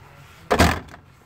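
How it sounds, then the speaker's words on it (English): A travel trailer's screen door swings back and latches onto the main door with a single sharp thunk and a short rattling tail, loud and close against quiet surroundings. "But then the screen door will reconnect right back to the main door."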